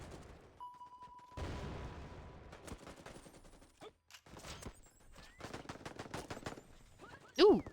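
Gunfire from the video game Bullet Yeeters: scattered bursts of sharp shots in irregular clusters over steady game background sound, with a louder burst near the end.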